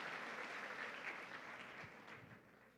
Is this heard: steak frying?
no